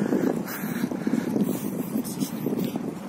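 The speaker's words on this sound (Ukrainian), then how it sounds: "Тут вітерець дує." Breeze gusts across a glass pedestrian footbridge in Kyiv, buffeting the microphone with a steady, fluttering low roar that swells and eases over a few seconds, nearby and moderately loud, with no talking.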